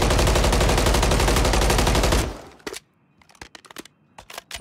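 An MCW rifle fires in a video game: a loud, continuous automatic burst for about two seconds, then silence broken by a handful of sharp, scattered shots and clicks.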